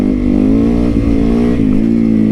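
A motorcycle engine revs hard during a wheelie, a loud, close, sustained drone with slight pitch wobbles and a brief dip near the middle.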